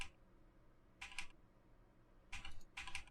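Number keys on a computer keyboard are tapped during a dinosaur breeding game, in quick quiet clusters of clicks with pauses between them, close to the mic over a faint background hum.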